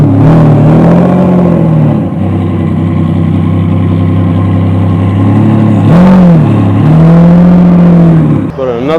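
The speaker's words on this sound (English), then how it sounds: "Diablo SV is off." A Lamborghini Diablo SV pulls away from a New Year's car meet in Japan, close and loud. Its engine idles roughly, then revs in several rising and falling surges that end with a final blip.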